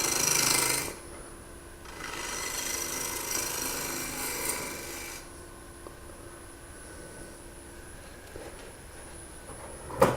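A wood lathe faces off the end of a two-piece hollow form, with a gritty scraping cut in short bursts over the steady hum of the spinning lathe, close and moderate in level.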